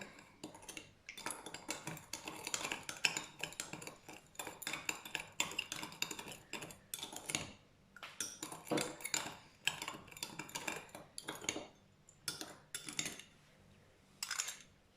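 A spoon mixes ingredients in a bowl for a Thai fish and spinach dish, giving rapid, continuous clinking and scraping of metal against the dish, close and fairly quiet with short pauses and no talking.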